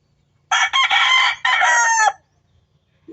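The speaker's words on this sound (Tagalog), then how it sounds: "Nilaok na, oh." A rooster crows once, close and loud, in a long strained call with a brief break in the middle, then the farmyard falls quiet.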